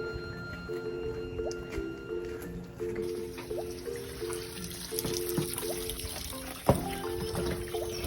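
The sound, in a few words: water flowing in a farm stream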